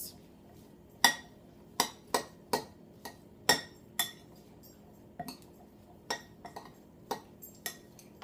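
A spoon knocks and scrapes against a bowl while a black bean burger mix with red pepper and amaranth is stirred, giving a dozen sharp clinks in an uneven rhythm, close and fairly clear over a quiet background.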